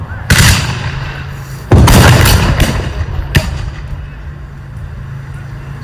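Two loud, close black-powder musket volleys crack out at a Civil War reenactment battle with percussion-cap rifles, each blast ringing into a long decaying rumble, followed by a sharper single shot and fading echo.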